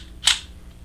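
A single sharp, crisp metallic click of the trigger breaking on a Tisas Regent CC45 1911-style pistol, brief and close in a quiet room.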